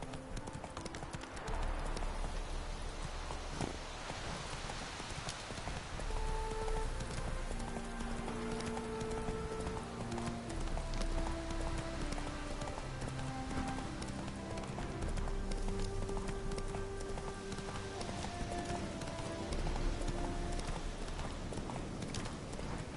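Roach, Geralt's horse in The Witcher 3, gallops with a steady, close clip-clop of hooves over a low rumbling bed, with an occasional whinny and soft game music underneath.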